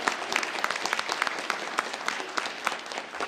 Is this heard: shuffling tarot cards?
no